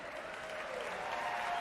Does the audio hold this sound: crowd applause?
yes